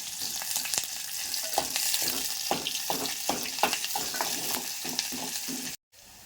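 Onions and eggs frying in a pan with a steady sizzle, broken by repeated scraping and stirring clicks that run on for several seconds before cutting off abruptly near the end.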